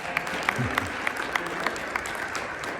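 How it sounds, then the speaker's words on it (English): An audience at a presentation gives a round of applause, a fairly soft but steady stretch of clapping heard mostly on its own. "Round of applause."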